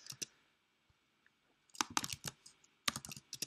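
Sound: computer keyboard typing code in Android Studio

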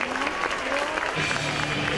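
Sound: wrestling crowd applause

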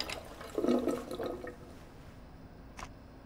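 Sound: water filling a bowl in the video game Life is Strange 2

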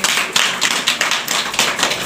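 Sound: people clapping

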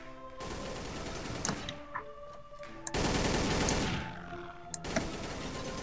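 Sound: gunfire in the video game Codename CURE

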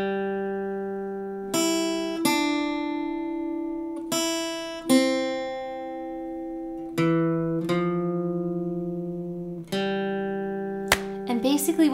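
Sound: guitar playing the solo line

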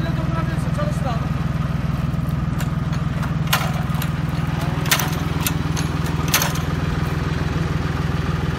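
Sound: Kadıoğlu agricultural machine engine started and running

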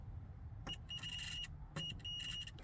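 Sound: cheap electrical tester beeping in speaker mode

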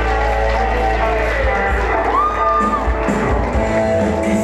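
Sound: audience applause and cheering

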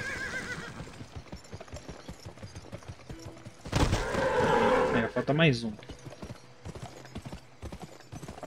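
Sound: horse neighing and hooves attacking in the video game GUN

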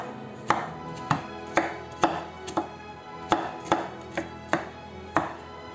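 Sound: knife julienning burdock root on a cutting board

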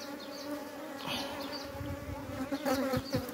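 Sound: honey bees at a beehive

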